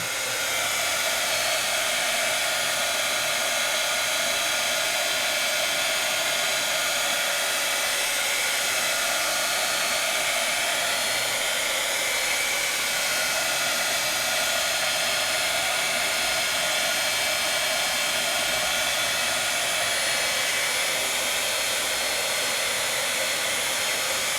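A heat tool blows continuously and loudly for the whole stretch, drying dye-based re-inker ink on rice paper, a steady unbroken roaring hiss with no pauses.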